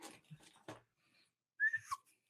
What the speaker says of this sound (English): A slide whistle.